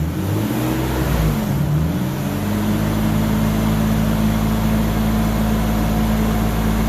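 A 2002 Isuzu Trooper LS with a 6VE1 V6 and 4L30E transmission, suffering from stalling issues, is held at about 2000 rpm. The engine gives a loud, steady drone that rises slightly early on and then holds constant throughout.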